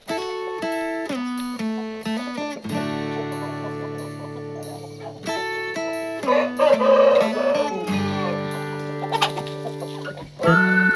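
Índio Gigante chickens cluck in a farm setting, a series of close, loud, tonal calls with varying pitch and short pauses between bursts.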